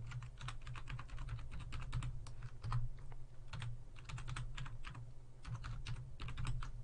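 Rapid typing on a computer keyboard while entering a new Windows user password, a close, dense run of light key clicks with brief pauses, heard alone.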